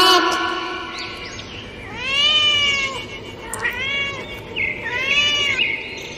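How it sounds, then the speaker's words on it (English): A cat meows three times in clear, moderately loud, drawn-out calls with short gaps between them. "C for cat."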